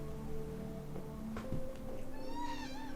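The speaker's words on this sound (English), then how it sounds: "Kitty, why are you meowing?" A pet cat meows indoors, its drawn-out calls rising and falling near the end, heard over a steady background hum and faint game sounds.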